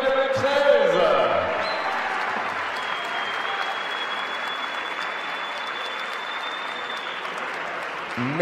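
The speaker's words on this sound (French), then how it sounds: "j'aimerais des applaudissements sportifs pour ce podium 13" Audience applause for a podium of young archers at a national youth indoor archery championship final, held in an arena hall; sustained, dense clapping throughout, with a voice briefly heard near the start.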